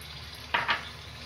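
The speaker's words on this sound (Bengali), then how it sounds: "এখন আমি আলুগুলো দিয়ে দেব।" Potatoes drop into frying mutton liver curry in a pan, giving two quick, close hissing sizzles over a faint background hum.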